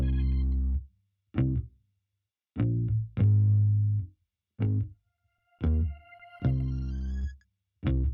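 Soulful vintage R&B beat bridge made in FL Studio: reversed synth chords swelling and cutting off in short, separate bursts, widened with echo and auto-panning from left to right, with no voices.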